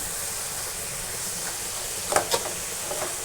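Pointed gourd (potol) fries in a pan with a soft, steady sizzle, broken by a couple of brief louder spatters and stirring sounds near the end.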